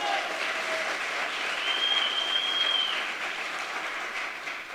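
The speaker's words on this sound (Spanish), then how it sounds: "denle el aplauso al Rey de Gloria" Applause from a church congregation during a sermon, a steady wash of clapping from many people with a faint high-pitched tone briefly sounding over it.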